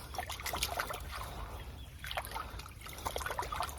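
Water swishes and trickles in a gold pan as gravel is broken up during panning, a soft, continuous sloshing with small splashes, close but fairly quiet.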